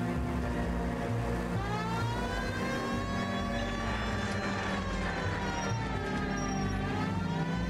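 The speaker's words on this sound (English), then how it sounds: "You hear the siren" A police siren wails in the L.A. Noire video game, rising and falling tones sweeping continuously over a loud, steady rumble of car engine and road noise.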